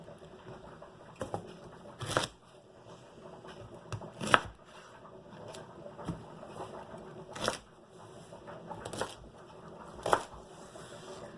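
A knife trims the end off a celery stalk in a kitchen, giving several crisp, separate chops spaced a second or two apart against a quiet background.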